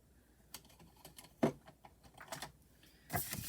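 A bone folder creases the sides of folded cardstock for a paper craft project: a quiet series of short scraping strokes and soft taps, with a couple of louder swipes near the start and the end.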